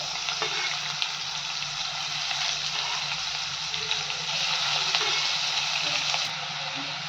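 Tomatoes frying with onions in a pan for chicken biryani, a steady close sizzle with occasional stirring scrapes and a slight swell partway through; no speech.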